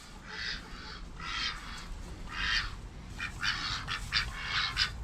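Several ducks quacking in repeated raspy bursts, fairly close, over a low outdoor background rumble.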